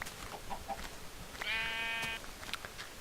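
Sheep being sheared with a chainsaw in Minecraft with the IC2 mod: a single short, buzzy bleat-like game sound lasting under a second, mid-loud over faint background game noise.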